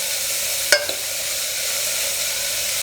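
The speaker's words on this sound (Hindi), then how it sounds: "तो अब हमने अपना प्याज डाल दिया है और प्याज अब भुन रहा है।" Onions sizzle in a hot pan in a village kitchen, a steady loud hiss broken by one sharp clink of a utensil near the start.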